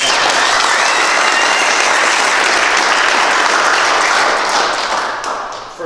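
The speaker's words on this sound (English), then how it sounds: "Give a round of applause." A room of coworkers bursts into steady, loud applause to welcome a new team member on his first day at a sales team meeting, the clapping dense and sustained before tapering off at the end.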